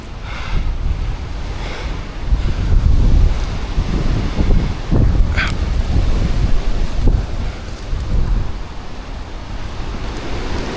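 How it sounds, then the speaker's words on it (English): Strong wind roars across the microphone high in a tree canopy, buffeting in loud low gusts that swell and ease over several seconds, with no speech. "Shit, it's windy."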